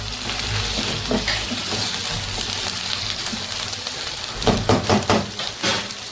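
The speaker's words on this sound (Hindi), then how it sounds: "यहाँ हम डालेंगे इसमें बिल्कुल थोड़ा सा पानी, तकरीबन 2 to 3 टेबलस्पून" Water, about two to three tablespoons, poured into browned ginger garlic paste in a pan. A steady hiss of frying runs throughout, and a short burst of sputtering bubbles comes near the end.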